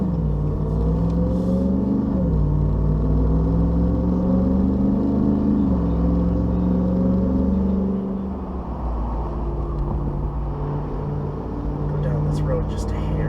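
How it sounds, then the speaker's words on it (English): A 2021 RAM 1500 TRX pickup gives a deep, loud exhaust and intake drone heard from inside as it accelerates, the pitch climbing through gear changes before settling into a steady rumble. "the exhaust noise from the GoPro and the intake noise from the camera in front are going to be amazing"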